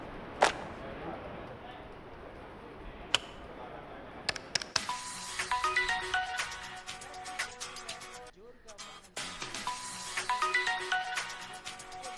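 A phone ringtone plays a repeating electronic melody for several seconds, preceded by a few clicks and set against faint background voices.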